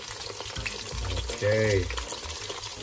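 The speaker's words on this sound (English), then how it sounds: "It seems to be frying along nicely." Steady sizzling of snapper frying in a pan, with soft clatter and a brief hum; a voice speaks one quick word over the sizzle.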